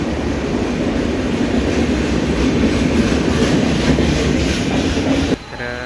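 A Kasara-bound local train rolls along loudly nearby, with a continuous low rumble, rattling carriages and clickety-clack of wheels, dropping off abruptly near the end.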